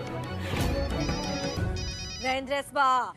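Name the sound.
telephone ringing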